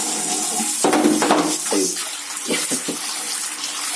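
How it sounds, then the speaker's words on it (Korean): A water filter cartridge for aquarium water is shaken and flushed, with loud running, splashing water and several sloshing bursts close by, continuous throughout. "이렇게 흔들어줘서 안에서 검은 물이 최대한 많이 나올 수 있도록 해줍니다"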